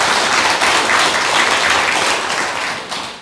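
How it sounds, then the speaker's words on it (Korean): A Buddhist temple congregation at a Lunar New Year dharma service breaks into warm, sustained applause, a dense crowd of clapping hands heard close and loud before tapering slightly. "큰 박수 한번 부탁드리겠습니다."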